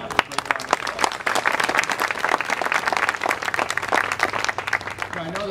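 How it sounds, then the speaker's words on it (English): An audience at a nursing home expansion groundbreaking ceremony breaks into steady, dense applause with many individual claps close by, continuing for several seconds before a voice begins at the very end. "Let's give Sam and all the staff a great round of"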